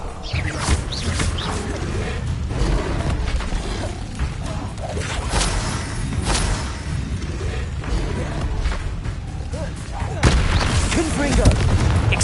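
A rapid stream of spell-casting effects in the Hogwarts Legacy video game, with crackling blasts, booms and whooshes layered continuously under a voice repeatedly shouting spell names throughout.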